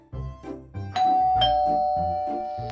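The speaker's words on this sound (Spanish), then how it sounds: "¡Oh, un timbre!" A house doorbell rings out a clear ding-dong chime, two tones repeating, bright and close, with the last note ringing on and fading slowly at the end.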